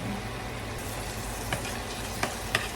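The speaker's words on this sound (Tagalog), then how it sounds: "Kailangan medyo i-brown natin ang ating garlic para mas lumabas ang sarap ng ating niluluto" Garlic browning in a hot pan gives a steady, soft sizzle and fry hiss throughout, with a few faint clicks near the end and no one talking.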